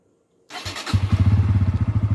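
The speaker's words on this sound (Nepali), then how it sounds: "म स्टार्ट गर्दैछु है त।" A Bajaj Pulsar N160 motorcycle starts after near silence, a short cranking burst catching into a steady, rhythmic close-up idle with a regular low thudding pulse.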